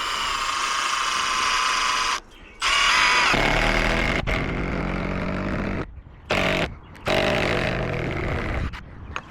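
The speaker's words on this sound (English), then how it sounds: "going to drill all the way down through." A power drill bores down through swingset lumber, a loud whining motor that starts, stops and restarts in several bursts separated by brief silences, shifting pitch as the bit bites into the wood.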